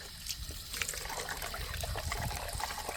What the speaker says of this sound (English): just open the lids and run the hose or tap in to get rid of the corrosive salt water